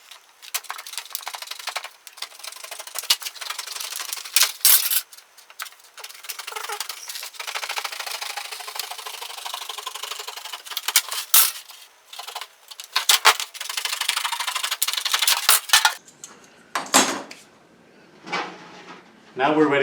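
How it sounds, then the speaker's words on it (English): Snips cut metal jacket insulation along pattern lines for a pipe tee, making a series of close, sharp clicks and crunching metallic cuts in irregular bursts with short pauses between them. "Now all you got to do is cut along the lines."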